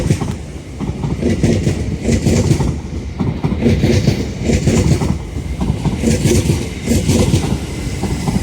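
An LNER train running through Doncaster station on the East Coast Main Line, a loud, continuous rumble with rhythmic wheel clatter over the rails lasting the whole stretch, no voices.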